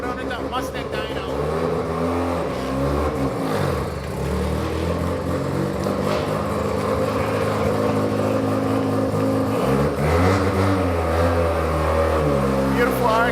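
Turbocharged 540HP Mazda RX7 rotary engine on a Mustang dyno, a loud buzzing idle with a few sharp revs rising and falling, voices talking over the engine nearby.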